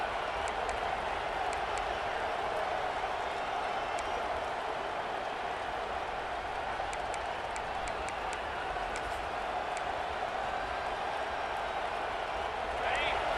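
Football stadium crowd at an Oregon vs Arkansas game, a dense steady roar of cheering and clapping for the defense that holds at one level throughout, with a commentator talking over it.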